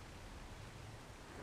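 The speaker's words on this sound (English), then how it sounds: "But is it just because it's raining?" Rain in the video game ARK: Survival Evolved, a faint, even hiss of falling rain with no other sounds.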